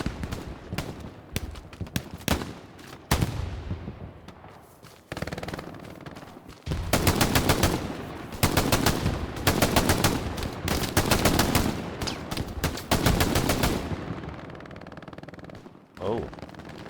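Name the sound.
machine gun fire in the video game Hell Let Loose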